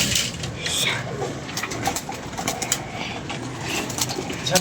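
Pigeon cooing carries across a rooftop in bright daytime, soft repeated calls mixed with outdoor background noise and some movement sounds.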